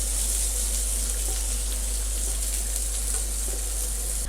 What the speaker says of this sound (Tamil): ஆனியன் ஆட் பண்ணிவிட்டு ஒரு 30 செகண்ட்ஸ் நம்ம ஆயிலில் நல்லா சாட்டே பண்ணி எடுத்துக்கணும்.